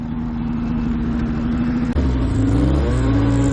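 A modified snowmobile engine at a drag race revs hard, a sustained high mechanical drone that jumps to a louder, rising pitch partway through, heard close and alone.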